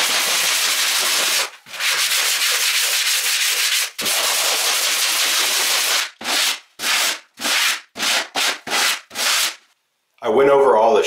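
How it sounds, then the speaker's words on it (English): Steady scratchy sanding of drywall mud on a wall, long continuous strokes followed by a quick series of short rasping passes, close and loud, no talking. "I'll go ahead and sand all this, make a huge mess"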